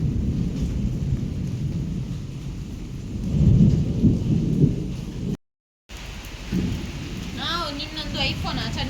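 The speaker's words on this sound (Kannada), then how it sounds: "ಇನ್ನು ಜೋರು ಗುಡುಗು ಬರ್ತಾ ಇದೆ" Loud thunder rumbles through heavy rain during a rainstorm, a deep sustained roll that swells midway, then the rain continues with birdsong chirping over it after a brief dropout.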